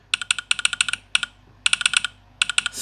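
Rapid haptic keyboard taps on a Huawei Pura 90 Pro Max phone, crisp close clicks coming in quick bursts of typing with short pauses between them, alone with no talking.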